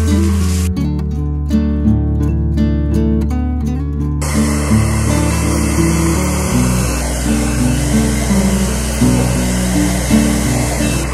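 Hair dryer blowing washed hair dry, a loud steady whoosh with a constant motor hum that shifts slightly in pitch partway through, close to the microphone with no talking.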